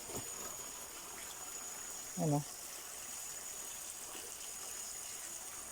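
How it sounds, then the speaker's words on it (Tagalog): Water being collected to clean a water tank, a faint steady trickle and flow running throughout, with a brief spoken word partway through. "ipon ulit tayo ng tubig"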